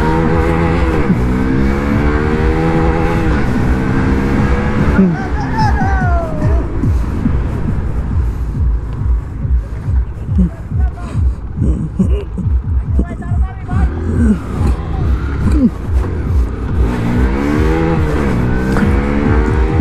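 Hero Karizma XMR 210 motorcycles race side by side, their engines revving up and down in repeated rising and falling whines, loud and close, with people talking and shouting throughout.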